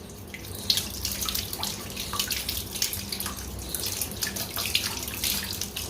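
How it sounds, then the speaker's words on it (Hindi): Water splashes and runs over cloth as it is rinsed, scrubbed and wrung out by hand, a steady close wash with irregular drips and splatters throughout. "पानी बहाया, रगड़ा और निचोड़ दिया।"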